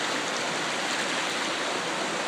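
The flooded Blanco River rushes past in a steady, broad roar of turbulent water, continuous and fairly loud, without talk.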